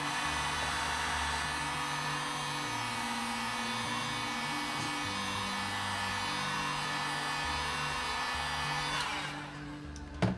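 A heat gun warms the sealing glue on a 2014-or-later GMC Sierra permaseal headlight, blowing as a steady, loud whir that runs for about nine seconds before shutting off.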